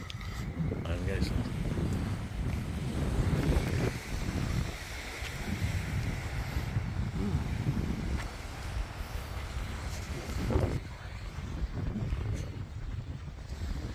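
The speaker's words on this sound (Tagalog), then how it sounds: "Ganda ng dagat, oh." Sea waves and wind on a beach, a continuous rushing wash with wind buffeting the microphone, while a person talks intermittently over it.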